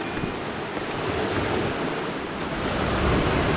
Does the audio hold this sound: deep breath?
no